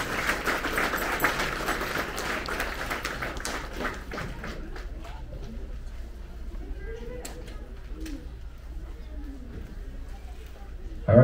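Applause from an audience at an elementary school sixth grade promotion ceremony, a dense burst of clapping that is loudest at the start and thins out over several seconds as the hall settles, with faint voices underneath.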